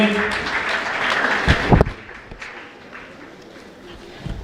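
Brief clapping from a crowd at a secondary school graduation ceremony, a short burst of applause that fades quickly, with voices speaking over it.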